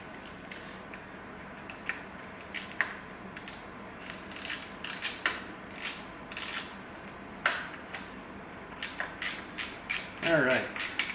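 Metallic ratcheting and clanking from a wrench loosening a part on a 1969 Honda Z50 in a workshop, irregular bursts of clicks up close, ending with a brief squeaky scrape.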